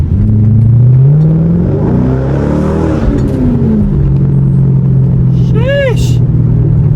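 A Chrysler 300 engine fitted with a cold air intake drones and rises in pitch as it revs, loud and close, with a brief higher whine near the end.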